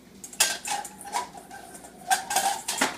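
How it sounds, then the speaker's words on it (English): Eggs are cracked against a bowl for choux pastry dough, giving a few sharp, close taps and knocks with light clatter in between, and no talk. "I preferably like to crack my eggs in a bowl"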